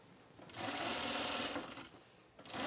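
Sewing machine running a gathering stitch on a cropped jacket, a steady close whir that starts after a brief pause, runs about a second, eases off and picks up again at the end.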